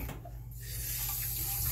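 Tap water running steadily into a sink while a kitten is rinsed, a continuous close splashing hiss throughout.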